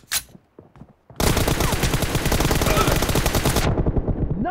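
Rapid automatic gunfire in a video game, a sustained loud burst of machine-gun shots lasting a few seconds after a short pause with a few quieter sounds, then cutting off abruptly into faint background noise.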